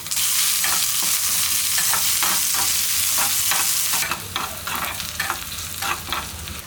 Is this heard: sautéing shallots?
yes